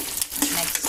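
Okra curry frying and being stirred in a pan, a steady close sizzle with scraping stir strokes over one second.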